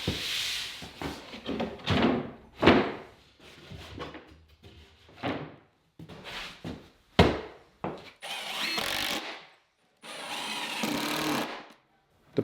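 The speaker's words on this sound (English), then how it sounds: "I ripped this full sheet of plywood to fill the space by the wall" A power saw rips a full sheet of plywood during barn floor repair, with repeated close bursts of motor whine and cutting noise, each several seconds long, broken by short pauses and knocks from handling the wood.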